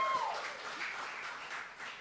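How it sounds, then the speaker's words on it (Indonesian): A church congregation claps in praise to God, a moderate, diffuse patter of many hands filling the room steadily for a couple of seconds without any voices. "Tepuk tangan buat Tuhan."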